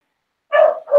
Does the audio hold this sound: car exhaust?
no